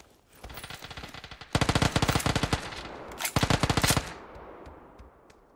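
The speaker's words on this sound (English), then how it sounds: "Just try to shoot the dude in the air with the Uzi" Uzi fire in a video game comes as loud, rapid automatic bursts, first a short spray, then longer sustained rattles with a brief gap between them, ending in a fading echo.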